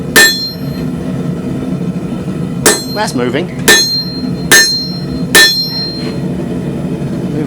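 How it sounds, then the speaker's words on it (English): Hammer blows on hot steel while forging a hook knife: five sharp ringing metallic strikes spaced about a second apart, loud and close, with someone speaking briefly between them. "Look at that, one dodgy hammer blow."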